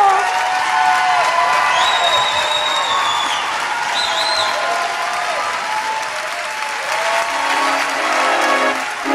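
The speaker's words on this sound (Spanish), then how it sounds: "buenísimo ese aplauso" Audience applause at an awards ceremony honouring the cast of Matilda the musical, sustained full crowd clapping with cheers and whoops rising above it throughout.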